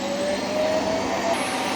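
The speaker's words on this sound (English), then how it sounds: "All I'm doing is filming the Hoover." A Roomba robot vacuum cleaner runs indoors with a steady, loud whirring hum and a high whine. The noise is continuous and close, with no talking.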